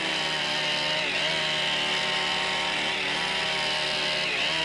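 Chainsaw engine running at a steady high drone, loud and continuous, with slight shifts in pitch and no voices.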